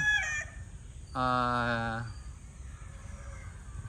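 Young stag roosters crowing in a chicken yard, one clear, loud crow close by, with a clipped call just before it and faint birds and background noise around.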